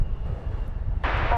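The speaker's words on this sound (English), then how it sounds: "And a safe touchdown for flight 698." Roar of an airliner on touchdown at DFW Airport, a steady low rumble followed by a sudden rise in broadband engine noise near the end, heard from a spotting position.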